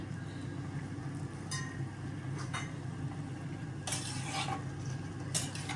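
Fish being stirred with spices in a pan for a fish chorchori, a low frying hiss broken by a few scraping stirs and light clinks of a utensil against the pan.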